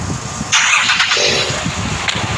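A car engine cranks and catches, a brief loud burst of starter and engine noise that settles into a rough idle within a couple of seconds, close by.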